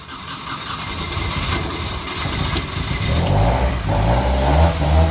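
A single-turbo Nissan S14 240SX with a custom TIG-welded stainless downpipe runs loud and close, its engine note rising into revving blips over a rough, steady exhaust rumble.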